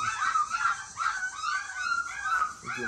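Young puppies around five and a half weeks old whimper and yip in a steady, overlapping chorus of high-pitched cries, close by and with no talking.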